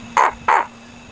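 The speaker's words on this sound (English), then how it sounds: "Seagull's crying for me, he loves me to death." A seagull at a beach gives two short, loud harsh calls in quick succession, close by, then quiet.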